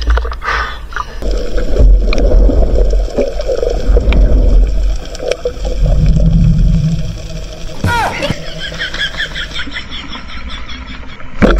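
Strong rushing water current, a constant loud churning roar close by, with a voice speaking over it near the end.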